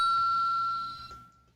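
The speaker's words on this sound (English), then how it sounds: "I rang a bell." A single clear bell ding rings out with a bright, sustained tone that fades over about a second, with a faint second tap near the end.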